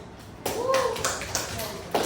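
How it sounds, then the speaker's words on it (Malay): Pupils in a classroom give brief clapping, sharp taps and claps mixed with children's voices, short and fairly close. "Bagi tepukan untuk semua orang ni."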